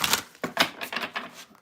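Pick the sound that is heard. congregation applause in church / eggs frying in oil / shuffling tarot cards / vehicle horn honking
shuffling tarot cards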